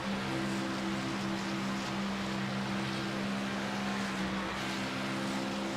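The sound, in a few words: video game race car engine throttle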